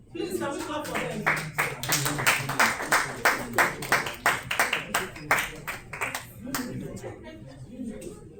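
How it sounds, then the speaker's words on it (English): Summit audience clapping to welcome panel speakers at a tech session, a crisp rhythmic run of individual claps in a fairly regular beat that thins out toward the end, with some voices underneath. "Please, can we clap for them?"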